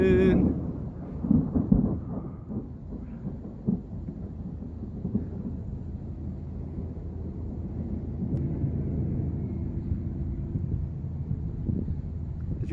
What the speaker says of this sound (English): Can you guys hear the lightning?